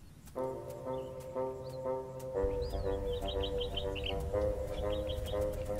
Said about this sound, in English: the desert becomes an oasis, attracting a wide array of bird life